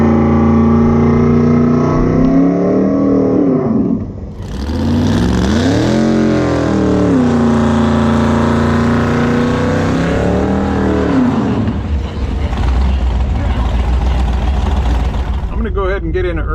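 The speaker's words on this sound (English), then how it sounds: "we're running this red C3 Corvette" A red 1978 Chevrolet C3 Corvette drag racing, fiberglass-bodied with a big motor, dual quads and nitrous, roars loud and close, its engine rising and falling through revs with a brief dip before surging again under a faint voice.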